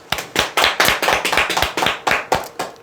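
Rhythmic group clapping from an audience at a sales coaching seminar, about a dozen sharp, evenly spaced claps in unison, close and clear with no talk.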